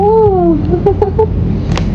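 A cat meows with a long, wavering cry at the start, then gives several shorter mews while being fed, with a light clatter in the background.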